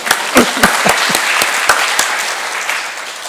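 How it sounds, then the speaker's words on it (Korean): A church congregation bursts into applause, with a few sharp, loud claps near the start before settling into a steady wash of clapping that continues to the end without talk. "우리 박수 한번 해주십시오"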